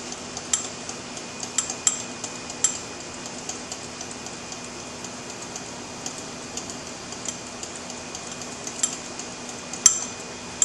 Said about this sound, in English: Just keep stirring, stirring, stirring.